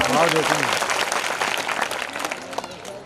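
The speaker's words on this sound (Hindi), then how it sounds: "अभिनंदन करता हूँ, ताली बजा के।" A crowd at a Hindu religious discourse breaks into loud applause, many hands clapping together steadily before tapering off, with a voice briefly audible at the start.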